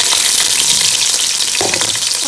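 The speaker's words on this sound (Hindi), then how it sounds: "सबसे पहले मैं तेल में प्याज फ्राई कर लूँगी" Onions frying in oil in a home kitchen, a loud, steady sizzle and crackle with faint stirring and scraping mixed in, continuous throughout with no talking.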